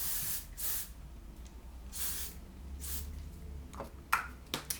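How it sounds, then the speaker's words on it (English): Tresemme hairspray misted onto hair in quick hissing bursts, three longer sprays followed by a few short sharp puffs, close and fairly quiet. "just grab some hairspray. This is just a Tresemme one, and lightly mist it over your hair"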